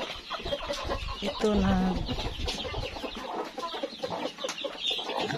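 Chickens in a coop, some with chicks, clucking steadily and close by in a busy, overlapping chorus, with a louder cluck burst near the middle and a brief spoken word.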